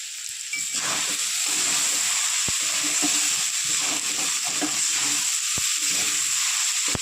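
Banana stem sizzles and hisses steadily in a frying pan, with fried curry leaves stirred in, and a few sharp clicks of the spatula against the pan, close and constant with no talk.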